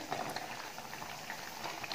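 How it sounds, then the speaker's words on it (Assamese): Fish curry simmering in a covered pot, a soft steady bubbling with faint lid-muffled hiss and scattered small pops, close by and continuous with no talk. "এতিয়া ঢাকন মাৰি পেলাই উতলিবলৈ দিম।"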